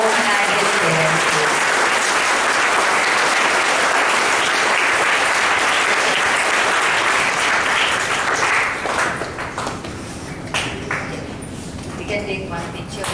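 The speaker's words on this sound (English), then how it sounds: "a big round of applause for Om and his parents" Loud, sustained audience applause fills the room at a stage event honoring Om Gupta and his parents, dense and steady before thinning toward the end.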